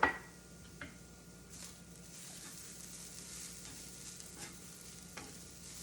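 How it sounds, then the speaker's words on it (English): Kale is stirred into cauliflower risotto in a pan, giving a soft, steady scraping and gentle sizzle throughout, faint and close, with a few small clicks of the spoon and no voices. "We'll just stir that in until it's nice and wilted"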